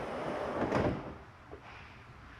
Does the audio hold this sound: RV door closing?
yes